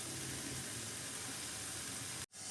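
Boiled rice hits a hot pan with sauce for baby corn Manchurian fried rice, giving a steady, close sizzle and frying hiss that cuts off abruptly near the end.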